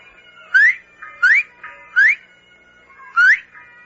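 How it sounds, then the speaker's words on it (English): A person whistles a signal, three quick rising whistles in a row, a short pause, then one more, each clear and close against a quiet background. "Whistle 3 times. Then once."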